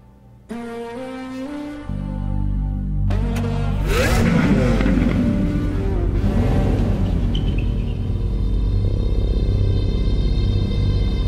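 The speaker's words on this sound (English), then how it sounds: "Our naturally aspirated V12 and the Aventador prove this once more." Lamborghini Aventador LP780-4 Ultimae with a naturally aspirated V12, heard as a sharp start-up and a loud, sustained rumbling idle with dense harmonics, after some quieter tonal sounds at the opening.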